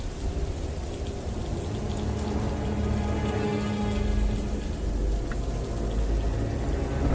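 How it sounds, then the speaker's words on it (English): Heavy rain pours down steadily in a dense, continuous hiss, a torrential downpour with a deep low rumble underneath, loud and unbroken throughout. "Heavy downpours make resting and maintaining body temperature a struggle."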